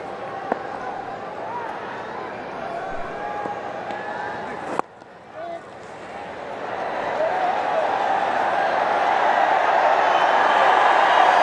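A packed cricket stadium crowd at an India versus Sri Lanka one-day international in Hyderabad, 2014, rumbles as a dense, restless murmur that drops briefly midway, then swells steadily into a louder, continuous roar of many voices.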